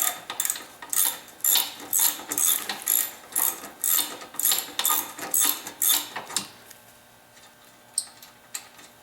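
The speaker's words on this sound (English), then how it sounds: "let's go ahead and break out the 14 millimeter. We'll get these three bolts out." Quick bursts of ratcheting from a 14 millimeter ratchet loosening bolts during a Kawasaki KLT 200C teardown, about a dozen rhythmic close clicking strokes, then slower isolated ticks as the bolt frees up.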